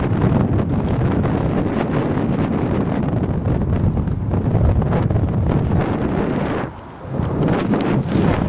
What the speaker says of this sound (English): Bloody windy and all too. It's picked up now.